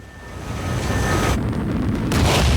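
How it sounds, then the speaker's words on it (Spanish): Space shuttle solid rocket boosters separating in flight: a loud, steady broadband rumble with wind-like roar, swelling to a sharper burst near the end, with no voices. "Hay una explosión y un relámpago y se ven caer los sólidos"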